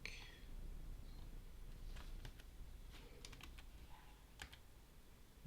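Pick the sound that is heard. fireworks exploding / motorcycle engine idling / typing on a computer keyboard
typing on a computer keyboard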